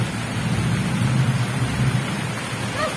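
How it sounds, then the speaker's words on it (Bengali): Heavy rain pours outside during a storm with thunder, a dense steady roar of rainfall with a deep low rumble underneath, loud and continuous. "কি হারে বৃষ্টিটা হচ্ছে এখানে।"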